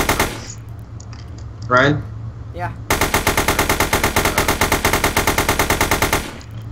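Video game gunfire rattles off in a long rapid automatic burst, loud and close, after a few scattered shots and a brief spoken word.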